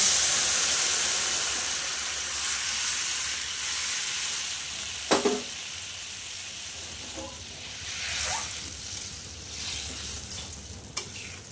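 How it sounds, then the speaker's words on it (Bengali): Fish curry gravy hits hot tempering in a pan for a pakal (eel) fish and potato curry, setting off a loud, steady sizzle that hisses on throughout, with a few clinks and stirs along the way. "এবার ঝোলটা ঢেলে দেব"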